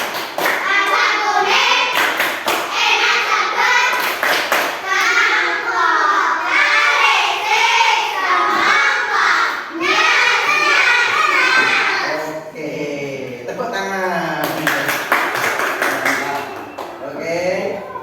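Children in a third-grade classroom perform the tepuk semongko rhythmic clapping chant, with sharp unison claps punctuating loud, energetic group shouting and singing close by, continuing throughout.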